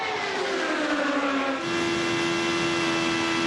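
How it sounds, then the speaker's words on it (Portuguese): IndyCar race cars accelerate at the 2010 Kentucky Indy 300 oval race, a loud, steady engine whine rising in pitch then holding high and close. "Você vai acelerando agora com Ryan Hunter-Reay."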